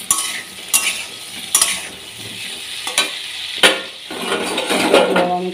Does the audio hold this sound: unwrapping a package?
no